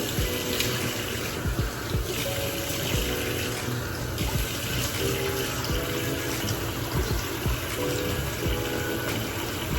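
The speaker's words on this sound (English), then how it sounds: "So I'm gonna take a little cool water and splash my face." Running water flows steadily from a bathroom sink tap, with close, continuous splashing as cool water is cupped and splashed onto a face during a morning skincare routine; no talking.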